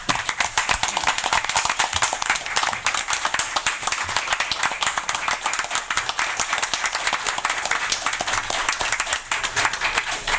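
An audience applauds a police captain with dense, continuous hand clapping that stays loud and even from start to finish, many individual claps blending together close by.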